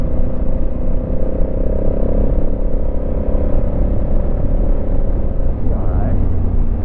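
Dual sport motorcycle ridden on a snowy, icy road, its engine droning steadily with a held mid-range tone and rough wind and road rumble, loud and continuous, a brief rising whine near the end.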